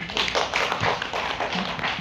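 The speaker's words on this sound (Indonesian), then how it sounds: "Tepuk tangan buat kita." An audience at a business seminar claps together in a steady, dense patter of many hands, moderately loud and continuous.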